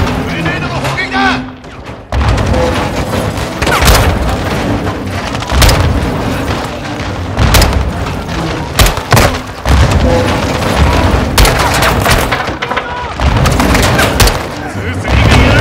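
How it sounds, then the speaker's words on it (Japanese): Grenade shelling in the Call of Duty: Modern Warfare II campaign, a series of loud, close booming explosions and gunfire bursts repeating across the scene amid chaotic battle noise, with voices shouting over it. "グレネードの砲撃だ"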